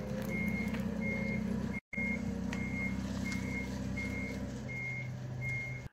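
A delivery truck bringing outdoor storage boxes backs up with a steady run of evenly spaced reversing beeps over a low diesel engine rumble, fairly distant, with a brief dropout partway through and no talking.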